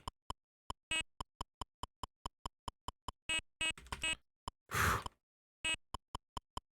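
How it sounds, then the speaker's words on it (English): Sharp electronic beeps from a Game & Watch Popeye handheld game sound in quick, evenly spaced single blips, some longer tones, and a short burst of static-like noise, clear and close, with no talking. "Sometimes it only makes one beep noise when I grab two really close by each other."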